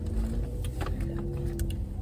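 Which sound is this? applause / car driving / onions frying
car driving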